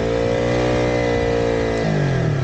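A motorcycle with an accelerator problem, on a Jammu to Leh ride, revs loudly and steadily close by, its engine note holding high and then sagging lower near the end.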